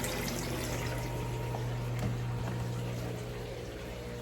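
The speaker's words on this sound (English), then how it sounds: "And that's all tank water. Getting siphoned out." Water from a 150 gallon turtle tank siphoned out through opened valves, a steady rushing flow that holds at an even level, close and continuous with no talk.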